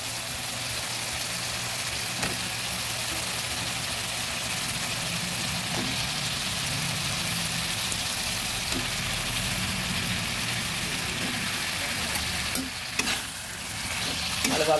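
Pieces of raw green banana, coated in turmeric water and rinsed, sizzle and fry steadily in a pan with spices and potatoes for a katla fish curry. A constant close frying hiss continues alone, with faint scrapes of stirring.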